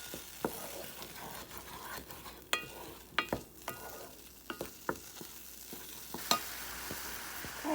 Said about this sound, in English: you just want to cook the apples until they start cooking down a little bit